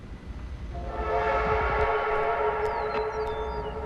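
A video game train horn blares over a low rumbling engine, holding a long steady tone that swells and stays loud, with a faint sliding whistle near the end.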